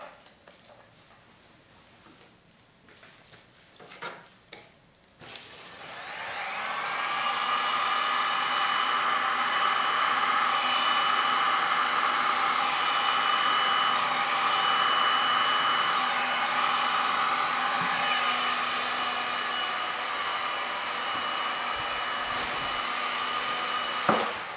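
After some faint handling taps, a dryer switches on and blows in a steady loud whoosh with a whining motor tone, held over a 6 x 6 resin tile for nearly twenty seconds.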